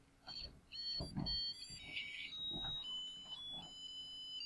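A small battery-powered music chip plays a quiet, tinny electronic melody of high beeping notes in a simple tune, with a few soft thumps and handling noises underneath.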